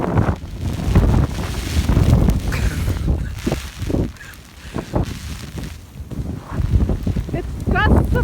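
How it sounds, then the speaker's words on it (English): Strong blizzard winds with ice pellets batter the microphone in uneven, roaring gusts rather than a steady stream. A voice talks over the rumbling blasts. "it's gusts of wind. It's not one steady stream, it's gusts."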